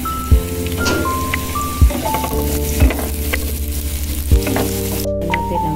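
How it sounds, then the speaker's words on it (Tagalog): Garlic sizzling in a small amount of oil in a pan, a steady crackling fry with several sharp stirring scrapes and clinks at regular intervals, close and loud with no talk. "Lagyan na natin ng oil. Kunti lang. Lagyan na natin ang ating bawang."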